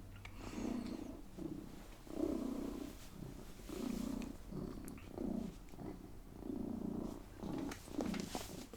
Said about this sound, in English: I'm sure you can hear him purring.